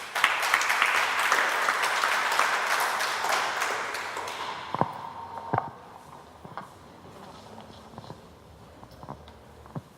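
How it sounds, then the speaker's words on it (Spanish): Audience at a conference on El Niño prevention applauds a speaker; dense clapping fills the first few seconds, then thins out to a few scattered claps and taps in a quieter room. "Recibamos con un caluroso aplauso al ingeniero Roger Hidalgo."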